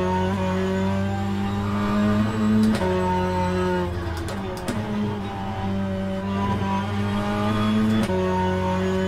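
A BTCC touring race car in the rFactor 2 racing sim, its engine droning loudly and steadily at high revs with a few brief gear-shift dips, heard alone without talk.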